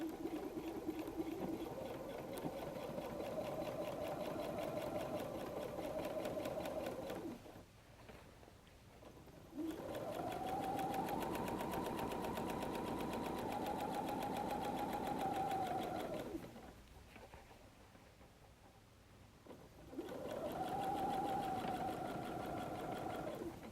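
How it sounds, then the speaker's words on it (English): Sewing machine stitching a seam on a messenger bag, a fast steady whirring hum in three long runs separated by brief quiet pauses, fairly faint and without talk. "And I will start to sew down that side."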